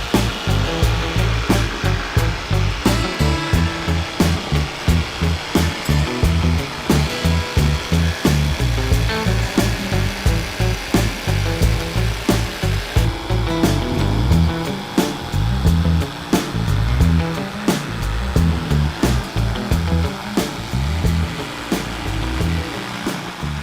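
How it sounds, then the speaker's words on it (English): A Metabo-HPT 36V MultiVolt cordless brushless orbital jigsaw, model CJ36DAQ4, sawing steadily in rapid repeating strokes, loud and close, with a rhythmic pulsing buzz. "This is the Metabo-HPT 36V MultiVolt cordless brushless orbital jigsaw, model number CJ36DAQ4."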